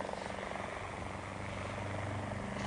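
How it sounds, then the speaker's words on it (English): A helicopter drones overhead in a radio drama sound effect, a steady throbbing rotor chop that stays loud and even for a couple of seconds with no voices over it. "It's a plane. Well, it can't be. Wait. There it is. Look, there. A helicopter."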